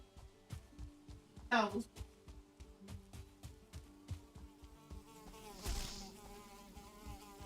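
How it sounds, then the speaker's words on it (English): A deathsquito in the Valheim video game gives a steady, thin insect-like buzz that drones on throughout, with a voice briefly heard over it. "Heard like a buzzing sound, and then all of a sudden something hit me."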